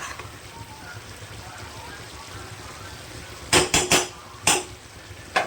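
Mixed vegetables for a pumpkin curry are stirred in a pan, a low sizzle for several seconds, then a burst of four loud spoon knocks and scrapes against the pan near the end.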